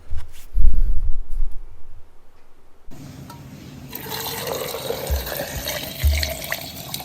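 Tap water runs as cherries are washed in a sink: a low splashing at first, then a steady, brighter gush of water from the faucet that continues to the end.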